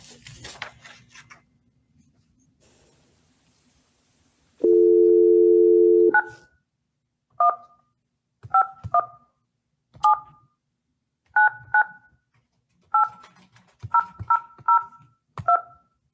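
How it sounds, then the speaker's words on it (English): A telephone handset gives a steady dial tone for about a second and a half, then about a dozen short, evenly spaced keypad tones as a number is dialed, with faint handling noise before. "So, I'm going to try to get Ms. Kaufman on the phone right now."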